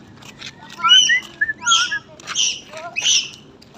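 Several bright bird chirps and whistled calls come in quick bursts, fairly close, over a quiet background with some faint voice-like sounds.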